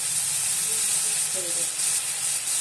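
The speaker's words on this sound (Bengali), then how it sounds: "এই যে মশলা আমার ভাজা হয়ে গেছে" Spices frying in a pan for vegetarian khichdi, with dal and softened vegetables, giving a steady broadband sizzle throughout, close and moderately loud, with faint stirring touches and no talk.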